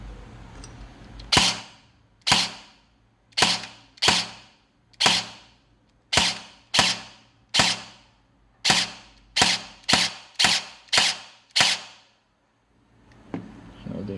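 A Guarder AKM airsoft rifle gearbox with an SP120 spring fires sharp mechanical zipping bursts one after another in an uneven rhythm, each a short loud crack with a quick tail, with silence between shots.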